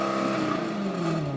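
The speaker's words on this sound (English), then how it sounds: "you can get a lot of sound coming out of the engine" A 2014 Jaguar F-type's supercharged engine revs through a sharp sports exhaust, a loud, steady harmonic drone with the pitch easing slightly downward, heard alone without talk.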